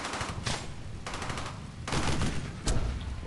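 Gunfire fills a battle in the game Brothers in Arms: Hell's Highway, with loud overlapping automatic bursts and single shots echoing continuously, and sharper cracks standing out near the end.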